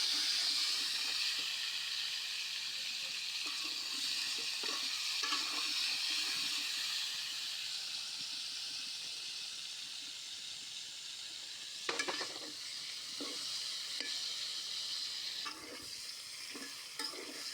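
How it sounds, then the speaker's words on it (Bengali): Pointed gourd coated in turmeric and salt fries quietly in oil with a steady low sizzle, punctuated by repeated scraping and clinking from stirring. "তারপর আমি ওই তেলে পটল একটু হলুদ আর লবণ দিয়ে মেখে তারপর হালকা করে ভেজে নেব।"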